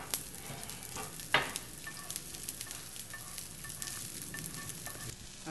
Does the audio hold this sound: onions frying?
yes